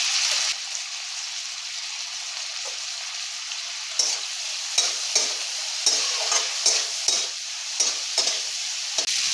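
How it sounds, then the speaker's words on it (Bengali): Prawns sizzle and fry in a pan with a little salt and turmeric, a steady hiss with bursts of crackle and sharp spattering pops through the later part, close and with no talking. "এবারে চিংড়ি মাছগুলোকে ভেজে নেব।"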